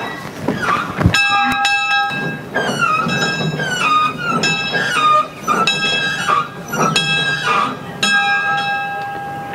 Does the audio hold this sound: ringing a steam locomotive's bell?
yes